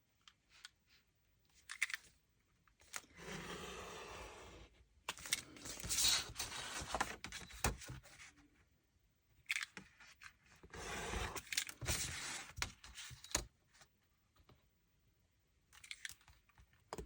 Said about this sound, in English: I'm going to cut that piece out